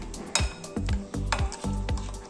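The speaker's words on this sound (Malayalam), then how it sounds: "നന്നായിട്ടൊന്ന് മിക്സ് ചെയ്ത് കൊടുക്കാം." A spoon stirs and mixes lemon pickle ingredients, including roasted ground asafoetida, in a pot or bowl, giving soft repeated scraping clinks at a steady rhythm, close and faint.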